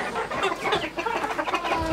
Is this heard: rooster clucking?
yes